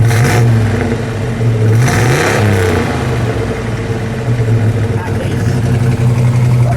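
A 1965 Chevrolet Biscayne with a 396 cubic-inch, 425-horsepower V8 rumbles loudly up close, rising in a couple of throaty revs before settling into a deep steady idle.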